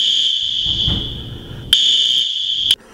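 Fire alarm blaring during a late-night dorm fire drill set off by police, a loud, piercing continuous tone that breaks off twice briefly, over faint background movement.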